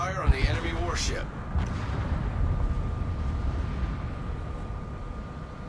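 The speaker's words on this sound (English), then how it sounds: "Concentrate fire on the enemy warship." Naval guns boom in the World of Warships game, a deep rumbling blast after a synthetic radio voice, then a long low rolling roar of distant gunfire fading under a thin steady tone.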